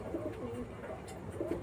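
Pigeons coo from a coop where some wing-clipped birds are kept, soft low throaty coos repeating in loose bursts over a steady hum of background noise, fairly close and moderate in level.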